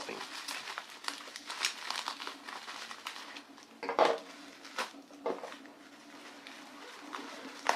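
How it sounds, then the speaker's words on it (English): Plastic wrapping rustles and crinkles as an inner layer is peeled from a Shanling M1 music player package, close and moderately quiet, with a few sharper crackles and bumps along the way. "And going further deeper inside with the next layer of wrapping."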